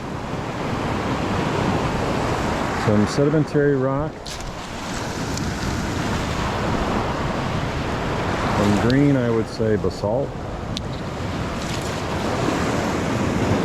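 Ocean surf pounds a rocky beach close by with strong wind buffeting the microphone, a continuous roaring wash that stays loud throughout while someone talks over it.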